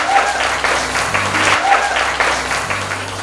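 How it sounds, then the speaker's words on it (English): An audience bursts into loud, steady applause for Nikhil, with dense clapping that holds at an even level for the full few seconds. "Can we have a round of applause for Nikhil over here, please?"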